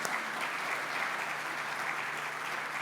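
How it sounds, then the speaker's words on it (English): Conference audience applauding plenary speakers; a steady, even patter of many hands clapping continues at moderate volume from start to end. "A big applause for them, please."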